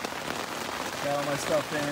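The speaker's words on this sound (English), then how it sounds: "as you can hear, it's raining pretty good right now" Rain patters steadily on a tent during a hike on the Appalachian Trail, a dense close hiss of drops with a person speaking briefly over it.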